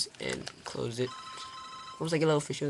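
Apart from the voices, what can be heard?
phone ringing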